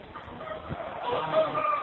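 Chickens on a chicken farm cluck and murmur in a busy flock nearby, a steady mix of overlapping calls with no talking.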